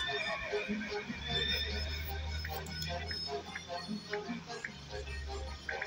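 A horse neighs in a Roblox zoo video game, with a drawn-out whinny over a steady hum of game sounds and light ticking.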